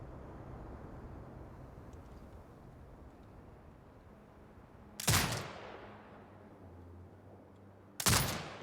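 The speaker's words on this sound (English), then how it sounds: "Exit binocular mode and command the turret to fire." Turret gunfire in the video game Sniper Ghost Warrior Contracts 2: two sharp, loud blasts about three seconds apart, each trailing off in a rumbling echo over a low ambient hum.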